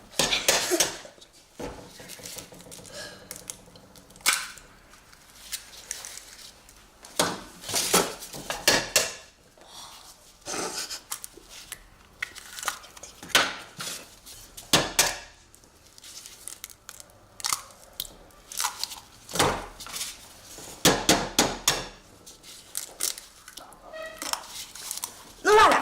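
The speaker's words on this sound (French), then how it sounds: "Ensuite, j'ajoute les 4 œufs et je mélange pour éviter les grumeaux." Four eggs added to a large mixing bowl and stirred, with irregular clinks, taps and scraping of utensils against the bowl in bursts, under a person talking.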